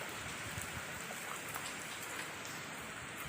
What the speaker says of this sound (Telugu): చాలా బాగా వర్షం పడుతుంది.